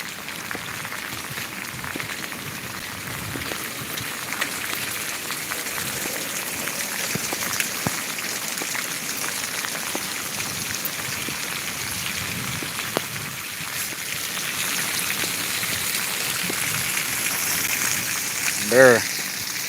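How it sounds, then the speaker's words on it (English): Steady rain falls outdoors in Marshallville, Georgia, producing a continuous broadband hiss of drops spattering on surfaces, with scattered louder patters throughout. "Yes, it's raining, guys."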